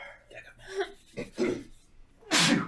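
A single sharp sneeze bursts out at the end, after a few seconds of quiet voices and breathy sounds.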